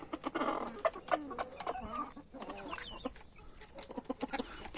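Chickens, including a black Araucana, cluck and murmur nearby in a busy, uneven chatter, with soft scratching and rustling in a quiet outdoor setting.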